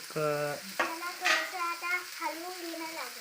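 Food frying with cumin in a pan is stirred with short scraping strokes that give off squeaky, tonal rasps over a soft sizzle, close and moderately loud, with no talking.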